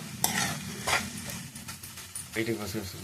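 Seasonings frying in a pan ahead of potatoes for a potato and fenugreek leaf curry, with repeated spatula scrapes and stirring bursts over a soft sizzle, a voice talking faintly in the background.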